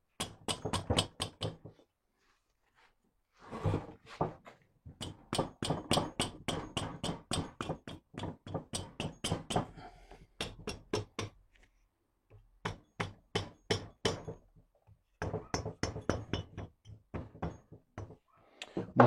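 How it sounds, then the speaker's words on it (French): A knife is tapped gently into the gasket joint of an R90 engine casing, making bursts of quick, close, hard taps in a steady rhythm, separated by short pauses of silence. "La technique du couteau là qu'on vient planter doucement dans le joint"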